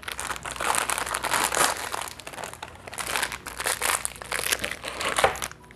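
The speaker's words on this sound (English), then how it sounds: "Packaging is always so noisy." Plastic packaging crinkles and crumples up close as it is opened, in repeated loud bursts of crackling with brief lulls between them.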